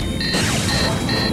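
Torpedoes fired in a sci-fi space scene, heard as a loud crash and explosion effect with rising whooshing tones over a dense low rumble, filling the whole short stretch.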